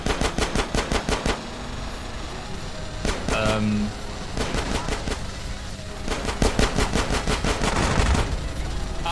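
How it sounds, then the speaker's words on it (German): Rapid automatic gunfire in the video game GTA San Andreas Definitive Edition comes in loud, close bursts of quick shots separated by short pauses, with someone talking briefly between them. "Okay, ich konnte schießen."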